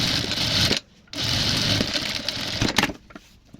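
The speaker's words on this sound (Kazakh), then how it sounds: "Белгіленген 33 см-ге шейін тігіп аламыз." Sewing machine stitching fabric for a child's apron, a fast close whirring run that stops briefly, restarts for a longer stretch, then slows with a few short bursts at the end.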